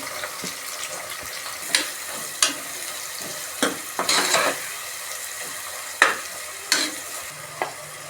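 Finely chopped onions fry in a pan, a close, steady sizzle broken by sharp scraping strokes of a spoon against the metal at irregular intervals, with no talking.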